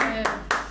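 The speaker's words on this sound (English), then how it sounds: "Round of applause for Beth." A few hand claps for team leader Beth, introduced as a guest, sound close and sparse, with sharp bursts spaced about a quarter second apart over a quiet background.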